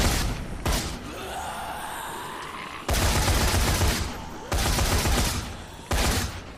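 Bursts of gunfire in the zombie game Dead Rising 3 arrive in loud, dense volleys separated by quieter gaps, with rapid repeated shots filling each burst.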